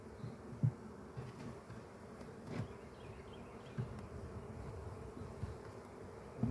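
Honey bees buzzing around hive frames, a steady low droning hum from many insects close by, with occasional louder passes of individual bees and faint handling bumps.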